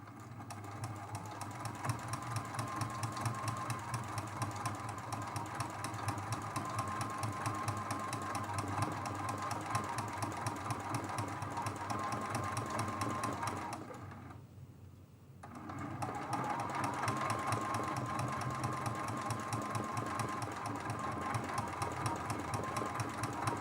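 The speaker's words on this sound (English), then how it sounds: "This is a super fast way to stitch down your applique." A sewing machine stitches down applique on a quilt block, running as a steady close continuous hum with a rapid needle rhythm, pausing briefly midway before resuming.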